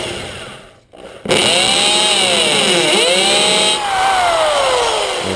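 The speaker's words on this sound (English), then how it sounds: "as you can see and hear, that bit is hammering" A loud hammer drill whines steadily at close range, its pitch dipping and rising as it bites into a concrete block, after a brief quiet pause.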